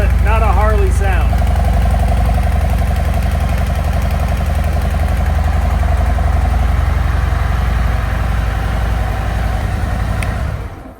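A Harley-Davidson motorcycle on stock mufflers idles close by, a steady, loud, even putter holding the whole time before cutting off at the end; its note is thin and mild.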